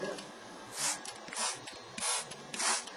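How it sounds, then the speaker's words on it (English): Distilled water sprayed from a pump bottle into a cigar humidor, four separate hissing bursts at a steady rhythm, close and fairly loud. "we're just gonna wing it here and spray generously"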